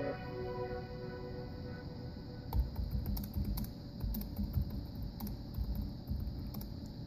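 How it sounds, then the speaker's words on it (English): Typing on the detachable keyboard of a Nextbook Flexx 11 Windows 8.1 tablet, a run of soft, irregular key clicks beginning after a quiet start and continuing steadily, fairly close, over a low background hum. "I'm gonna try to type something here and let you guys look at the keyboard."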